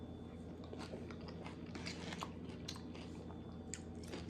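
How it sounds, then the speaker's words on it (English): A crunchy late-night snack of cucumber, red onion and tomatoes being eaten, with soft close bites and chewing crunches repeating quietly. "I am having a late night snack. I'm having cucumber, red onion, and"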